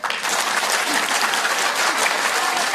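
A group at a Parkinson's day gathering claps hands together during an exercise, dense steady clapping from many people throughout, loud and close, with no talking over it.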